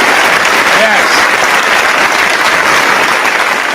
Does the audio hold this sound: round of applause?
yes